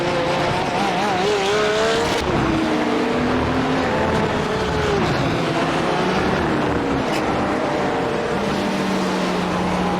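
Several GT3 race car engines, including a Porsche, roar and whine continuously in a racing video game at the Hungaroring, pitch sliding up and down as cars accelerate and shift, with loud steady track noise throughout.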